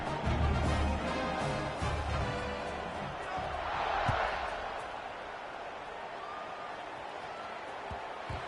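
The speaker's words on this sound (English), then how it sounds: "this crowd now ready to get behind them" Stadium crowd at an American football kickoff: a broad, distant roar of fans that swells toward the kick and then settles, with a thud or two and play-by-play commentary running over it.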